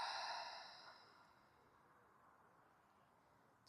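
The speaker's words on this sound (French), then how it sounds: "Et longue expire par la bouche." A long, slow exhale through the mouth during a pranayama breathing exercise, soft and airy, fading gradually over a few seconds with no talking.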